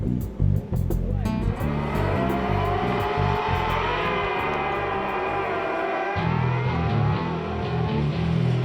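Superbikes launching at the start of a Canadian Superbike Championship race, engines revving hard in rising, overlapping whines that sweep upward as the pack pulls away, loud and near, with a brief dip before another machine roars past.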